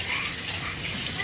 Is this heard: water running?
yes